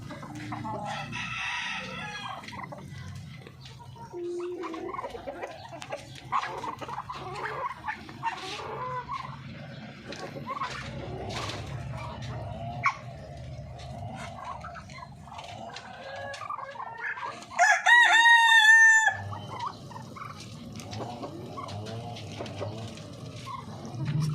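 A large breeder rooster on a farm crows loudly and clearly once, and hens cluck and chatter nearby throughout, with a few scattered knocks in the background.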